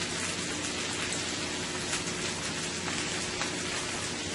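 A chicken, broccoli and cabbage stir-fry sizzles steadily in a 14-inch skillet, a dense, even hiss with faint crackles, close and continuous with no talking.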